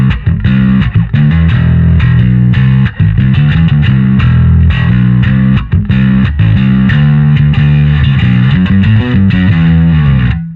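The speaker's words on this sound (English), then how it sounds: "Here's the B3K, the OG Darkglass distortion." Bass guitar through the Darkglass B3K distortion on an Anagram pedal, a thick, gritty, heavily driven riff of repeated low notes and chords, very loud and close, played alone.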